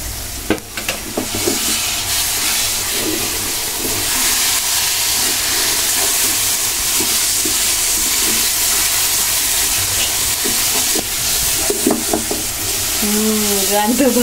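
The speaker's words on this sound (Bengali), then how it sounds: "আর একটু ভাজবো 5 মিনিট" Grated coconut with milk powder frying in a pan and being stirred, a steady dense sizzle running throughout with repeated scraping strokes, a faint voice briefly near the end.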